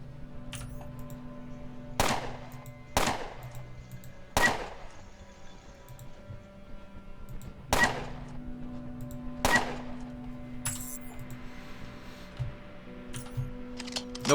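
Gunshots in the post-apocalyptic RPG Underrail during a fight with rat hounds along the rail lines, five or six sharp separate cracks spaced a second or two apart over a low ambient hum, with no talking.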